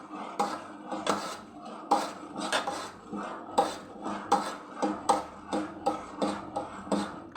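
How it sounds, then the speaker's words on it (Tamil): Food being stirred in a cooking pot: a steady series of rhythmic utensil scrapes and clinks against the pot, about two per second, close and alone with no talk. "நல்லா கிண்டி விட்டுக்கிட்டே இருங்க."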